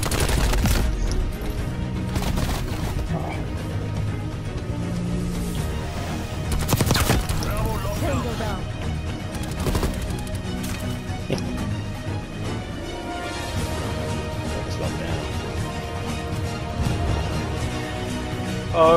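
Shotgun fire in Call of Duty Black Ops Cold War multiplayer, with sharp blasts bursting over a busy, continuous game mix while people talk throughout.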